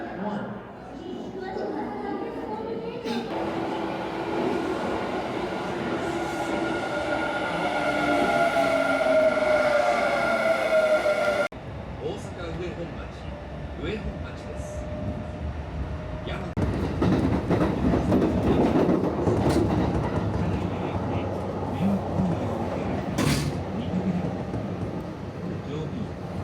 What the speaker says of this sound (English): An express bound for Nara is arriving at track 1.